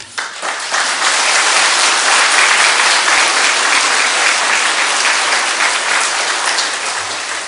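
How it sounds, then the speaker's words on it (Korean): A church congregation breaks into loud, sustained applause to welcome someone forward. Dense clapping starts after a quiet moment and holds steady, close and full, to the end. "나오실 때 우리 하나님께 영광 돌리고 또 감사하는 마음으로 박수로 좀 환영하겠습니다."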